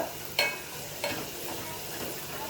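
Masala frying in a pan while being stirred for a seafood fish curry, a close, steady sizzle with two sharp clinks of the spoon against the pan early on, with no talking.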